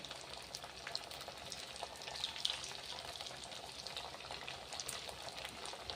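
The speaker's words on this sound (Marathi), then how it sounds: "आपल्याला कुरकुरीत होईपर्यंत या वड्या तळून घ्यायच्या" Bottle gourd vadis deep frying in oil over medium heat, a soft continuous crackling hiss with faint scattered pops, steady and fairly quiet with no voices.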